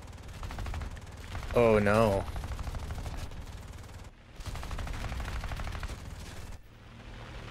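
Aircraft cannon and machine-gun fire in a combat flight video game keeps rattling in sustained bursts, with engine drone beneath and a player speaking briefly over the shooting.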